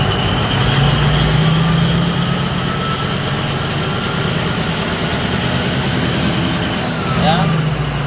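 A Caterpillar 777D off-highway haul truck's large diesel engine idles nearby with a loud, steady low rumble and a faint whine above it, rising slightly as the throttle is eased on.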